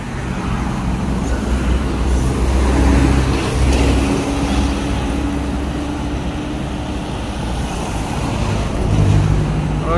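A Palala bus, unit E06 nicknamed Sakeso, passes on a road in a steady broad engine and tyre roar, with a deep low rumble swelling around the middle and again near the end amid continuous traffic noise.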